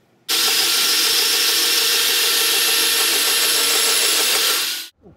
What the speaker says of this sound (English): I'm just gonna drill the hole at the same time.